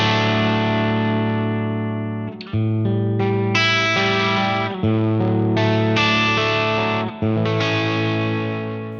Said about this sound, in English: we've got tails, which will enable your reverb trails to continue naturally